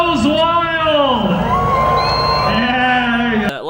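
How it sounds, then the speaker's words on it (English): Crowd cheering and whooping at a Street Car Takeover drag race in Denver, a sustained loud roar of voices and shouts just after a 160 mph winning pass, dense and continuous, cutting off abruptly near the end. "the crowd goes wild"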